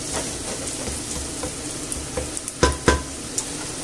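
Carrots added to onion and garlic fry in a pot for stewed pork ribs, with a steady soft sizzle and a couple of sharper stirring scrapes partway through.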